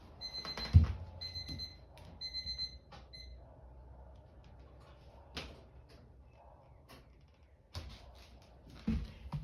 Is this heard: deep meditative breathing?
no